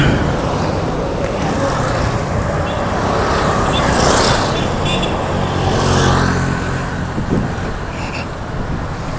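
A Suzuki car being parked on a busy roadside, with steady engine and traffic rumble throughout and passing vehicles swelling nearby.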